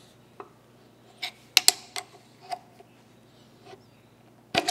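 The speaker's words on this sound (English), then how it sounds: "I'm just going to use a wrench to put a little extra torque on those" A wrench tightens bolts on a parking attachment for a Kearney & Trecker 3H horizontal milling machine, producing sparse sharp metallic clicks and clanks, a few louder knocks, over a quiet low hum.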